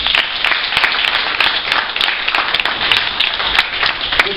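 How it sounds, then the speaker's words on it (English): A university audience gives a steady, close round of clapping for panel discussion speakers, dense and even throughout without voices. "Let's give them another round of applause."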